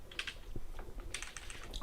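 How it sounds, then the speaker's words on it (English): Quick, close clicking of a computer keyboard as a command is typed into a Kali Linux terminal, a short burst of keystrokes. "just go to your terminal and just type in"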